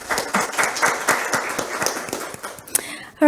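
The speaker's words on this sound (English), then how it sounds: "Let's give yourselves a round of applause." An audience of delegates at a critical minerals reporting workshop opening in Johannesburg applauds in a steady, close patter of many hands that thins out, ending with a brief burst of sound.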